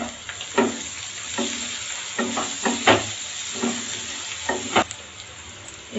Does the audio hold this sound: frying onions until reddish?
yes